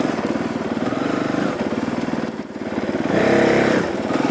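A Honda CRF450L motorcycle rides off-road in first gear, its engine chugging close by in a steady low-rev pulse. The revs rise briefly toward the end.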